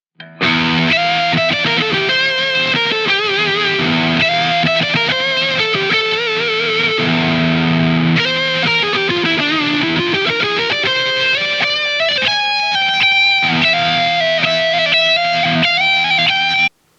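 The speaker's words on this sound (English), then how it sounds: "which sounds like this, going from Locrian to Super Locrian." Distorted electric guitar plays a continuous run of single notes over a held chord, moving up and down through a scale from Locrian to Super Locrian, loud and steady throughout.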